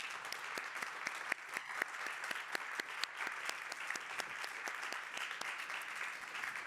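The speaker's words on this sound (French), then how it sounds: "Je pense qu'on peut vous applaudir bien fort." An audience at a keynote by the SNCF chief executive applauds, a sustained round of hand claps with sharp individual claps standing out over the dense wash, steady throughout.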